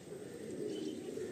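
Malwai pigeons in a loft murmur with a faint, steady low cooing, heard alone at a distance.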